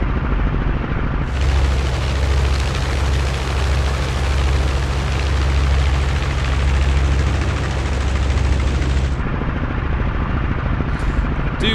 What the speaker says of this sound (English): Do love the engine sounds in this.